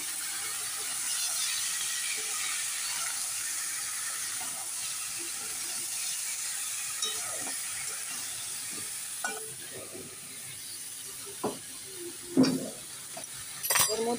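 Onion, tomato, ginger, potato and chicken sizzle and fry steadily in a kadai, with a stirring hiss throughout and a few sharp clinks of utensil against the pan near the end.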